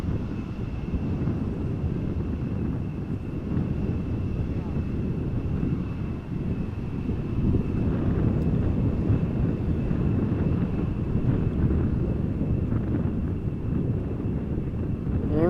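Embraer jet arriving in a crosswind at Amsterdam Schiphol, heard as a steady broad engine roar mixed with heavy wind buffeting on the microphone, fairly loud and unbroken.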